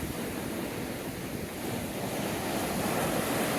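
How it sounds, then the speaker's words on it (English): Clean ocean waves break on a beach at Ocean City, Maryland, in a northwest wind, a loud continuous roar of surf mixed with wind buffeting the microphone, building slightly toward the end, with no speech. "Check out how clean the waves are."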